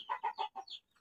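A chicken clucks close by in a quick run of about five short, throaty bursts, then goes quiet.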